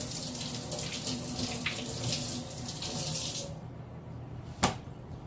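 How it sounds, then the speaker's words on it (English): A kitchen tap runs steadily as a green pepper is rinsed beneath it, a close, even splash of water that shuts off partway through, followed by a brief sharp knock. "I also have a green pepper that I want to rinse off"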